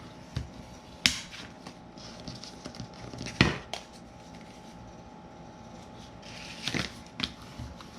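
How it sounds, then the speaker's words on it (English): A folded score mark on contact paper is rubbed down firmly with a burnishing tool, giving soft scraping strokes broken by a few sharp clicks and taps, close and quiet with no talking. "I will just add a very good burnishing on that score mark where I"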